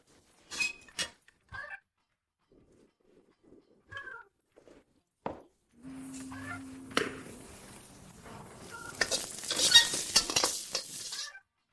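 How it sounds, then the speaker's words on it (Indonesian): Fried rice being stirred and fried in a pan, with scattered scraping clinks and taps first, then a louder sizzling stretch of busy stirring near the end, fairly close. "Buat nasi goreng lagi saja,"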